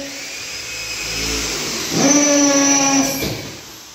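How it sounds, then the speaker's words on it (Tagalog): A power drill bores pilot holes for screws into wooden floor joists during second-floor flooring work, its motor whining up in pitch as it bites into the wood, close and loud, then winding down. "Una, ipapilot drill muna."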